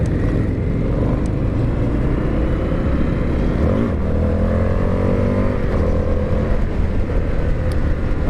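A 2020 Indian FTR1200 motorcycle engine drones loudly and continuously, its pitch climbing midway as it accelerates.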